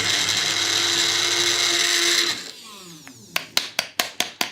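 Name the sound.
bullet blender mixing raw banoffee pie ingredients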